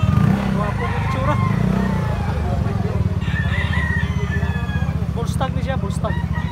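A bullstag rooster for sale crows at the Carbon public market, with its calls rising over a constant bed of market noise and passing motorcycle engines.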